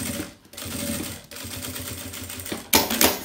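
Sewing machine stitching along the edge of synthetic leather for a notebook cover, a steady rapid mechanical chatter running through most of the moment with brief pauses and a brighter burst near the end.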